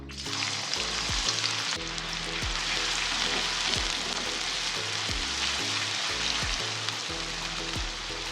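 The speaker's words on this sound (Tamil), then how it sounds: "இப்போது எண்ணெய் நல்லா சூடாக ஆரம்பிச்சிருச்சு. பெரிய வெங்காயம் கட் பண்ணி வச்சுருக்கேன், பொடி பொடியாக இதையே சேர்த்துக்கலாம்." Chopped onions fry in hot oil for an egg thokku side dish, giving a steady, loud sizzle throughout, with occasional stirring scrapes and low thumps in the pan.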